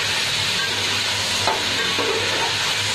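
Bay leaves fry in oil in a pot for Hyderabadi biryani, giving a steady, close, continuous sizzling hiss with one or two faint stirring touches and no voices.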